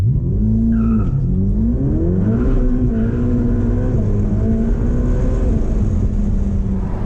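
A 710 hp Ferrari F8 Spider launches from about 3,500 rpm. The loud engine drone dips, then climbs and holds through rapid acceleration, heard steadily and up close without speech.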